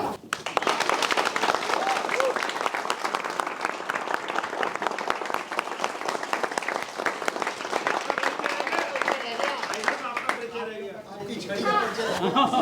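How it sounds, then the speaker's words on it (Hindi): A theatre audience applauds loudly and continuously after a satire play, with a dense wash of clapping, some chatter and a chuckle mixed in, thinning briefly near the end. "और आखिरी में आपका बहुत जोर शोर वाली तालियों से धन्यवाद।"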